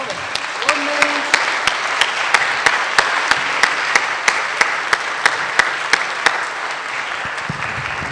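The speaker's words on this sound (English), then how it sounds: "Can we just clap for the Chaplaincy Institute, for all the ordinaries?" An audience at a chaplaincy ordination ceremony claps steadily, with one loud rhythmic clapper standing out over the broader applause, continuing for about seven seconds before tapering off.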